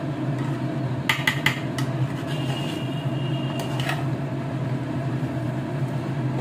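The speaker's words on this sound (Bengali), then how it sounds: "পোলাওটাকে একটু ভালোভাবে নাড়িয়ে দিচ্ছি" A spoon stirs morog polao, a chicken pulao, in a metal pot, giving a few short clinks and scrapes against the pot over a steady low hum.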